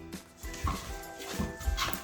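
Dog whimpering and giving short high yips during obedience training, several brief cries close by, quiet overall.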